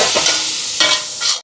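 Onions and tomatoes being stirred as they fry in a cooking pot for a large communal lunch, with repeated scraping strokes over a steady close sizzle and no talk.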